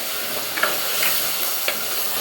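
Brinjal pieces fry in a pan with a loud, even sizzle, broken by a few scraping stirs of a spoon, with no talking.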